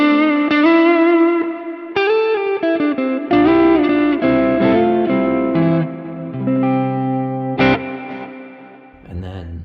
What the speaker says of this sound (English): If you pump it up to the 7, you get a little more grit.